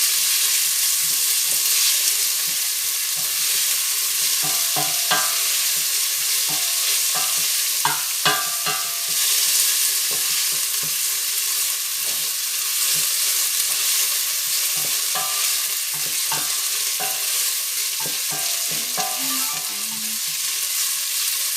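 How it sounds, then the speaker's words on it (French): Onions cook in a pan for a Congolese spinach dish, a steady sizzle and fry with frequent stirring scrapes and clicks, close and continuous with no one speaking. "faut bien cuire les oignons avant d'incorporer les épinards"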